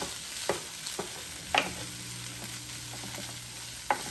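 Garlic fried rice stirred in a hot pan: a steady close sizzle broken by a few sharp scrapes and taps of the utensil against the pan, with no talking.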